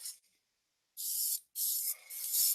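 A spray paint can puffs gray paint in three short hissing bursts, each close and sharp, separated by brief silences, with a faint sputter after the second burst.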